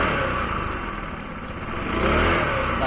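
A stock Motorstar Easyride 150CL motorcycle engine runs steadily close by, a continuous buzzing rumble that swells slightly toward the end.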